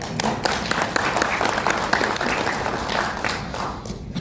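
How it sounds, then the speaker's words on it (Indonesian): A crowd applauds steadily for a few seconds, dense clapping at moderate volume with no talking. "tepuk tangan"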